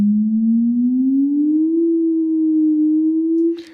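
An ID700 synthesizer holds a pure sine-like tone whose pitch drifts gently upward under random modulation at a one-second rate, steady and loud, ending with a short noisy click.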